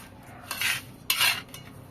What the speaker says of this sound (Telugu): ఉల్లిపాయలు పచ్చిమిరపకాయలు అయితే కట్ చేసుకుంటున్నాను